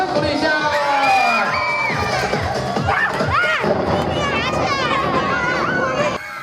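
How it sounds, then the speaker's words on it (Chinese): Children at a Christmas charity event with a magician shout and cheer in a loud, lively crowd, with excited voices and whoops filling the whole stretch. "掌声鼓励一下"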